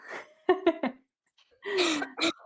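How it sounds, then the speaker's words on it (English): A person coughs in a quick burst of three close, harsh coughs, then after a pause lets out a longer throaty, strained cough. "I'm going to have a coughing fit"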